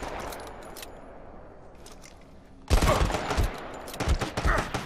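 Rapid gunfire in the mobile shooter Sniper Fury, with a quieter stretch giving way to loud, dense bursts of repeated shots in the second half, close and sharp.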